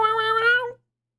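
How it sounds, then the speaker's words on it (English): A cat gives a single clear, tonal meow lasting under a second, close and loud, then silence. "good cat sounds?"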